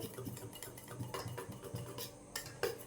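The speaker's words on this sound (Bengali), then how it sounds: "গুঁড়োটা আছে দেখুন আমি কিছুটা মিশিয়ে নিচ্ছি" A spoon stirring food colouring powder into a mixture in a bowl, with soft repeated scraping and light clinks against the bowl, quiet and close, no talking.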